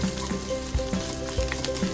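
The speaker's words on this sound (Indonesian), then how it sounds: "Gorengkan daging hingga agak garing." Beef frying in a pan, a steady sizzle with bubbling crackle and small popping bursts, close and continuous, with a faint recurring clink as of stirring.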